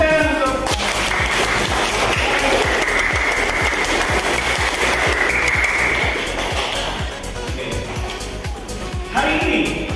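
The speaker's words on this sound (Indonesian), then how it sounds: "oke, tepuk tangan untuk" A classroom of students claps in a steady, loud round of applause that carries on for several seconds, with voices mixed in.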